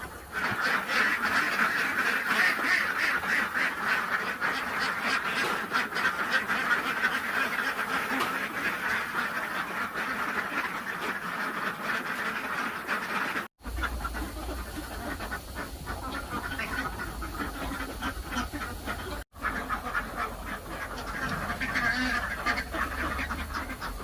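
Egg-laying ducks quack steadily while eating, a dense flock close by with busy overlapping calls and feeding noise throughout, alongside a faint low rumble in the second half.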